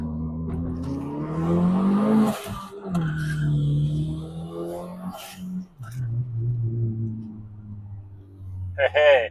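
A turbocharged Hyundai Getz drives under boost, its engine droning and rising in pitch through the revs; someone talks over much of it.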